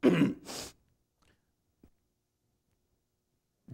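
A short, throaty clearing of the throat, two quick rough bursts close up, followed by near silence with a faint click.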